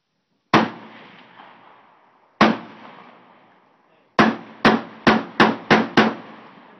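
A Draco pistol firing outdoors: two separate loud shots with ringing decay, then a quick string of five more in steady rhythm, close and sharp with no talking.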